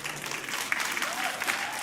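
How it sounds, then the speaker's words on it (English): Church congregation applauding newly married couples, a dense continuous burst of clapping from a crowd filling the whole moment at moderate loudness. "Why are you clapping for them?"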